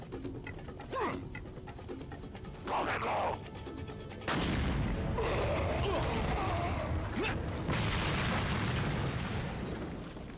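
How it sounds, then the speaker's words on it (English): Explosions from bombs in the survival-horror video game Resident Evil 4 burst out in loud, dense blasts that layer over each other with mechanical clatter, thickening sharply partway through and staying heavy to the end. "I don't know who's throwing bombs at me."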